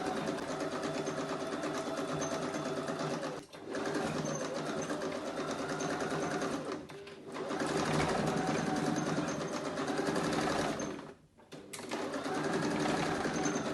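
A sewing machine running a super stitch back stitch through denim, loud close steady whirring runs broken by two brief stops.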